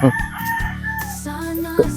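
Roosters crow near free-roaming chickens that have wandered loose at a former rabbit pen beside a vermicast farm, a loud harmonic call at the start and another near the end with steady clucking and layered cackles between.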